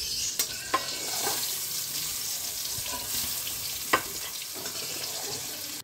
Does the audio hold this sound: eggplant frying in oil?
yes